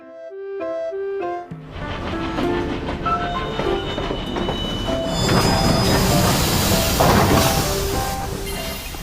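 A train pulls into a station in the World of Final Fantasy video game, with steady rolling rumble, clattering wheels and hiss rising over an opening musical jingle, loud and close throughout.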